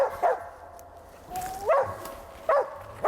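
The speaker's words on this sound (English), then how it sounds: "she sees one of these squirrels and she's running, you'll notice a big change in that voice. Stronger bark." A squirrel-hunting dog barks in the woods, giving three sharp, fairly loud barks spaced out over a few seconds, with quiet outdoor background between them.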